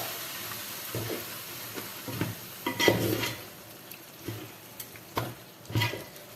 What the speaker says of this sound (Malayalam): ബീഫും ചേർത്ത് നന്നായിട്ടൊന്ന് മിക്സ് ചെയ്തെടുക്കാം